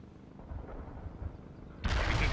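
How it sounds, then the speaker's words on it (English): Incoming mortar fire in the strategy game World in Conflict erupts as a sudden loud broadband blast after a low rumbling lull, then sustains a dense roar of explosions to the end. "I have incoming mortars!"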